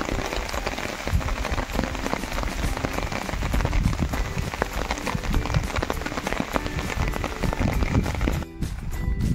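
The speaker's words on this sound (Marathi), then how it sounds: "तुम्ही पाहू शकता इकडे पाऊस चालू आहे." Steady rain pours at Visapur Fort, a dense continuous patter of drops hitting nearby surfaces, loud and close throughout with no voices, briefly dipping near the end.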